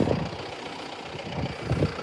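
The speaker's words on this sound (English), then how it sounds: "we got the old 100-horse John Deere out here doing it" An old 100-horsepower John Deere diesel tractor runs steadily nearby at a low, rumbling idle-like chug while preparing ground for a barn pad, with a few heavier throaty pulses near the start and end.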